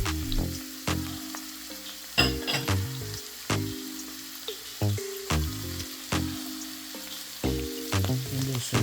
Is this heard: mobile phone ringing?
no